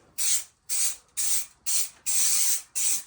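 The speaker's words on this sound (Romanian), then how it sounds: "Acum îl folosesc pe ăsta spray pentru viteză." Spray primer is applied from an aerosol can ahead of sealing the edges of a vapour barrier: five sharp, loud hissing bursts in quick succession with short gaps between them, the fifth held a little longer.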